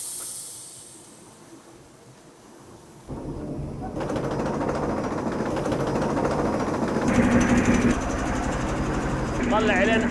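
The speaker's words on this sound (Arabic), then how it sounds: "ماكينة مخصوصة لتجفيف السجاد" A dedicated carpet-drying machine runs with a loud, steady hiss and whir that kicks in about three seconds in and holds to the end, its hum growing slightly fuller over time, while people talk over it.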